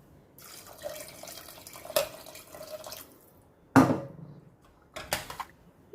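Water poured into a pot of chole (chickpeas) being cooked for boiling, heard as short splashing pours and drips in bursts, fairly close and moderately loud, with no talking.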